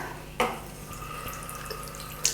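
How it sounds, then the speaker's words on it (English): A damp cloth wrung out over a sink, water trickling and dripping steadily in a short close stretch, with a brief splash at the start and another at the end. "wring out the damp cloth, and remove everything from my skin"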